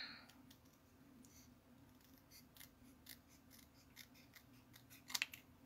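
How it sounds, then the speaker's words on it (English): Scissors snip out a painted poppy shape on paper, a quiet series of short, crisp cuts at an uneven pace, ending in a slightly louder cluster of snips. "now we're gonna cut"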